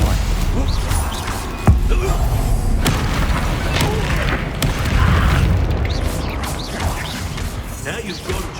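A Stupefy spell strikes in the Hogwarts Legacy video game, landing as a loud booming impact with a sharp crack among continuous dense battle effects and other spell blasts.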